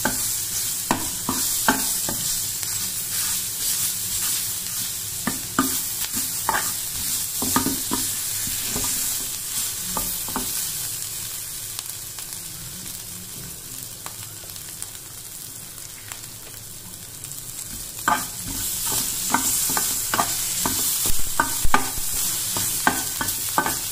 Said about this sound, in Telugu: దీంట్లో జింజర్ గార్లిక్ పేస్ట్ వేస్తున్నాను